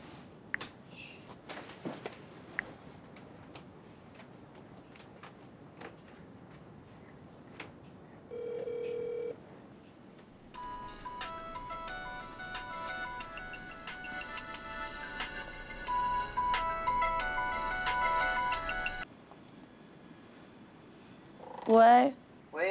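A telephone rings in a home, with a bright, repeating electronic ring pattern that runs for several seconds at moderate loudness, after quiet stretches with soft background talk.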